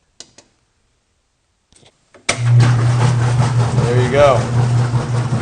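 A top-loading washing machine motor, just oiled after a frozen pulley, starts up abruptly after a few faint clicks and a brief word, then runs with a steady, loud low hum and a rising whine.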